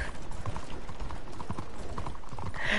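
Horse hooves clip-clop in the Red Dead Redemption video game, a steady, close trotting rhythm that runs without a break throughout.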